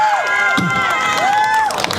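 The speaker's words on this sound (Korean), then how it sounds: "다시 한 번 큰 박수로 함께 주시기 바랍니다." A crowd at a K-pop idol busking show in Hongdae cheers loudly, with high excited shouts and squeals over a brief burst of applause, close and continuous for two seconds.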